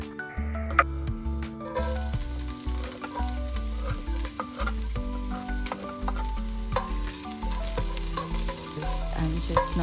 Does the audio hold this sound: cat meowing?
no